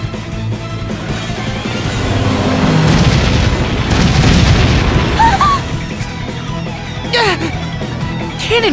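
Deep booming cannon blasts from the video game Bravely Default, a rumbling roll of explosions building and fading with scattered game sound effects and brief voices around them.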